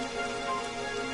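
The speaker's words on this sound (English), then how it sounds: "have to go and start raining, wouldn't it?" Steady rain falls in Dragon Quest XI, a dense, even hiss that holds without a break from start to finish, with no voices over it.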